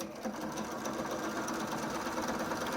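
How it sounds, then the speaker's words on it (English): A sewing machine runs steadily for a few seconds, stitching binding onto a quilt, with a close, continuous mechanical whir and rapid needle clatter and no talk. "So I'm going to sew just a couple more inches."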